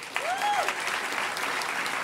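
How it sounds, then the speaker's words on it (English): Crowd applause at the Hackers On Planet Earth 2012 closing ceremonies, a continuous broad wash of clapping from a large audience, with a short rising-and-falling whistle or cheer near the start. "So give them a round of applause."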